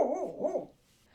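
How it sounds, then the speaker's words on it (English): A dog gives two rising, drawn-out vocal sounds, a bark shading into a growl, close and moderately loud, before the room falls quiet. "do you mind not barking right now?"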